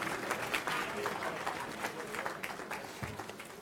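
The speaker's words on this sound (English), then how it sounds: "Let's have another round of applause for the ladies and gentlemen putting themselves out there," Crowd applause at a county Republican Party endorsement meeting in San Diego, a dense, continuous clapping from a room of people with a few louder claps and brief voices mixed in.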